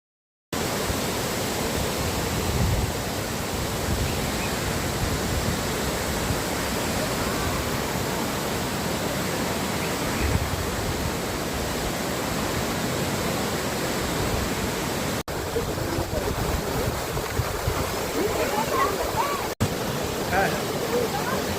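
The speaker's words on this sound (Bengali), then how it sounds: "এই চাঙ্গেরি ফলসের জলটা পড়ে একটা গুহার ভেতরে ঢুকে যাচ্ছে।" Changeri Falls near Kolakham pours into a cave, a dense, constant roar of falling water that stays even and loud throughout, with a voice faintly under it.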